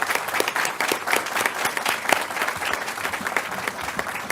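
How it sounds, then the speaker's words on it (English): A room full of people at a Henderson County board of education meeting breaks into sustained, dense applause, loud and steady for several seconds with a faint crowd murmur underneath. "I want to give them a round of applause"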